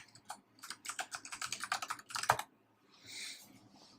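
Rapid clicking keystrokes on a computer keyboard rattle out in a steady burst for about two seconds, ending with a heavier key press, then a brief soft rustle.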